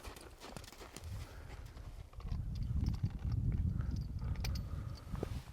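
Hooves of a horse trotting while working cattle, a quick steady clip-clop on the ground that grows louder and denser after the first couple of seconds.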